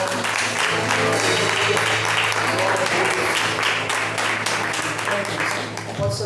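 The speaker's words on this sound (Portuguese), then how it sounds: "Vamos aplaudir ao Senhor." A large church congregation applauding steadily for several seconds, dense clapping that fills the space, with a faint tonal hum beneath it.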